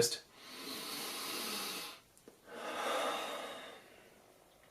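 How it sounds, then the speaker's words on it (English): Two slow, deep breaths are drawn in and let out close to the mic, each long airy exhale followed by a pause. "Just deep breathing."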